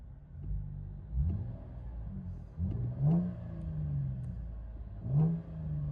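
A Chevy Camaro with a 3.6L V6 and aftermarket exhaust is heard from inside the cabin, a muffled low engine rumble swelling in several short revs and settling between them.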